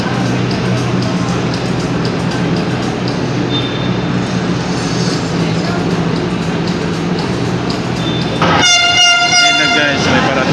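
An LRT Line 1 train rolls into a station on the line extension, a loud continuous rumble of wheels and motors, with a sharp horn or brake whine near the end, as people talk nearby.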